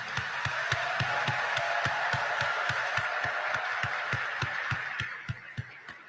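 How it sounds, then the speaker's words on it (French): Applause from a crowd at Dr. Aristide's ceremony on Sunday, 2 March 2025: a steady, dense wash of clapping with a regular thumping pulse running through it, holding loud throughout and thinning slightly near the end. "qu'il est juste et beau de vous exprimer notre gratitude par ce tonnerre d'applaudissements"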